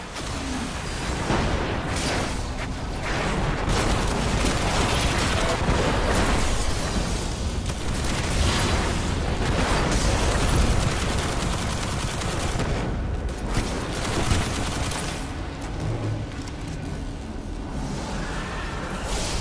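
Dense, continuous gunfire and explosions from the video game Destiny during a Titan strike mission, loud and relentless with overlapping bursts and booms filling the whole stretch.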